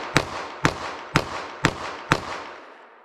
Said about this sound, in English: I am firing fast from 7 yards.